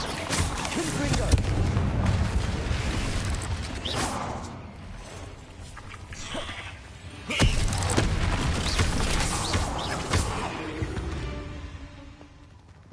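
Confringo fire-spell blasts in Hogwarts Legacy: a few heavy booming bursts, one especially loud about halfway through, over a dense, busy game soundscape with a voice speaking at times.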